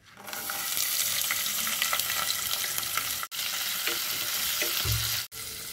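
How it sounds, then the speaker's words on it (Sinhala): Dried prawns frying in hot coconut oil in a pan, a loud, steady close-up sizzle with crackling spatter, broken by two brief pauses as the pan is stirred. "තෙල් ටික රත් වෙනකොට ඒකට එකතු කරගන්නවා අපි ඉස්සු කරවල ටික."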